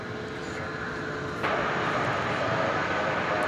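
A Boeing 787-9 Dreamliner airliner departs DFW Airport bound for Melbourne, a steady broadband jet roar from a distance that swells noticeably louder midway and holds.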